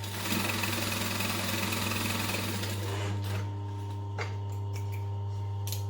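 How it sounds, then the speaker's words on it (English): A sewing machine stitches the sides of a fabric pocket closed in a steady, dense whir for about three seconds, then stops, leaving a low motor hum and a few faint clicks. "then just stitch the sides closed"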